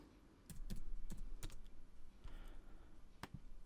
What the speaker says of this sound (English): I totally am just randomly typing in certain coordinates.